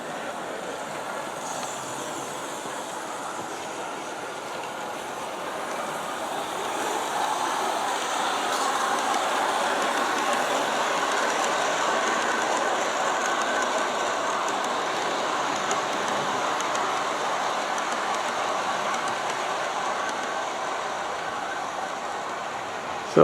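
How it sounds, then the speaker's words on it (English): USAT S-scale model train cars fitted with 3D printed draft gearboxes roll along outdoors, giving a steady, continuous rumble and rattle of wheels and couplers that swells slightly midway and holds at moderate level throughout. "you can hear the cars taking up slack and going into tension and compression depending on how the grade changes"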